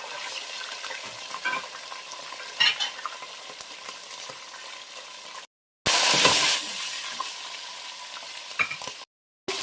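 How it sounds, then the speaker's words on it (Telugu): Cashews and green chillies sizzle in hot oil for a biryani, a continuous close hiss with occasional stirring scrapes, broken by two brief silent gaps. "నేను క్యాషెస్ వేస్తున్నాను అండ్ గ్రీన్ చిల్లీస్ వేస్తున్నాను"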